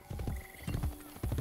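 Horse hooves clip-clopping in Assassin's Creed Brotherhood, three quick clusters of hoofbeats at a steady trotting rhythm, close and clear.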